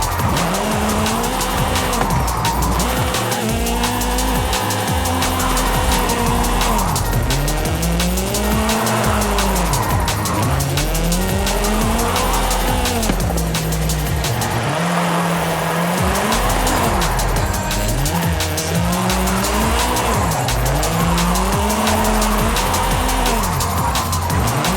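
Video-game car drifting in Forza Horizon 5 at a drift club event in Mexico, with a continuous loud engine that rises and falls in repeated revving sweeps, and sustained tire squeal and skidding throughout.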